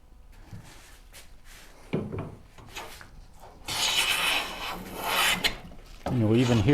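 A plane blade cuts and skips across an uneven wooden board for a Shaker Enfield cabinet, giving irregular rasping scrapes in short strokes that grow longer and louder toward the end.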